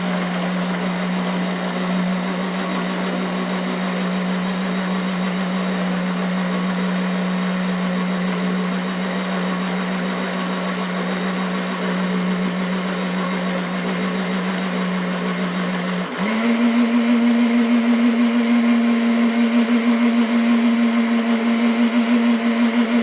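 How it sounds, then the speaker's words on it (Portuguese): A blender whirs through gluten-free chocolate cake batter with a loud, steady motor hum. Near the end the pitch steps up as the speed increases, and the whine stays continuous with no talking over it. "bate que o liquidificador vai se encarregar já em pulverizar tudo junto aqui dentro da massa"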